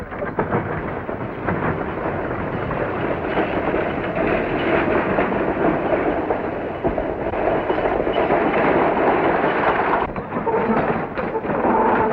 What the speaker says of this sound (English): Here comes the ammunition wagon.